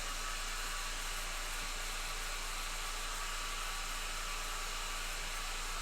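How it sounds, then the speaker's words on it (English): A hair dryer runs nearby with a loud, constant whooshing roar that holds steady throughout and has no talking over it. "I got a dryer going, or my hair dryer, so it's a little noisy"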